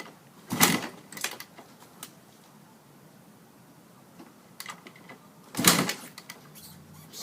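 Two hard mechanical clunks from the kickstart lever of a 1987 Kawasaki KX500 motorcycle, one early and one near the end, with a quiet gap and faint knocks between; the engine does not catch.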